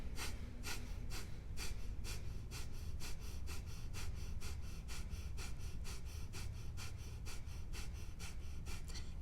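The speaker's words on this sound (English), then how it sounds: "take a deep breath in and begin your fire breath." Rapid rhythmic yoga fire breathing, a steady series of quick forceful exhalations through the nose, about two per second, close and clear with no talking.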